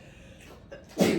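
A single short sneeze bursts out in a classroom during an algebra lesson, loud and close, after a quiet moment with faint room noise.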